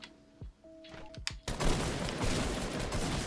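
Shotgun fire in a scene from the live-action Kim Possible movie: quiet tonal sounds and a few soft knocks give way to a loud, sustained burst of blasting that continues to the end.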